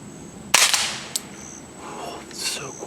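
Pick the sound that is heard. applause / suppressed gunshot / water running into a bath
suppressed gunshot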